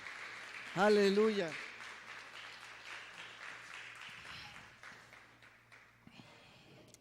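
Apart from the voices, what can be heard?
church congregation applause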